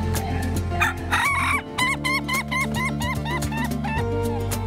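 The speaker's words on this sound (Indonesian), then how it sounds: "Keunikan ayam ketawa dapat dilihat dari suara kokokan yang khas mirip dengan suara tawa manusia." A Laughing Chicken (ayam ketawa) rooster crows in a long, repeated, stuttering call that rises and falls in rapid pulses, loud and close, with other fowl clucking beneath.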